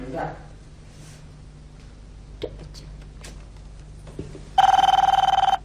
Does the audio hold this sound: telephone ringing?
yes